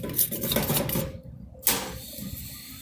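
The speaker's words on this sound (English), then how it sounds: "Scrape off some of the Spam residue on the side" A utensil scrapes Spam residue off the inside wall of a camp cook pot on a trail, a steady rasping metallic scrape with a brief pause and then another stroke, close up, with no talking.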